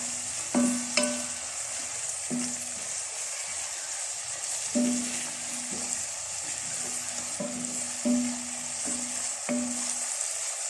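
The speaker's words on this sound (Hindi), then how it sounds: "अब इसको अच्छे से फ्राई कर लेते हैं।" Garlic paste frying with onions in a pan, a steady hiss of sizzling oil broken by repeated scrapes and clinks of a spoon stirring at an uneven rhythm, close and without talk.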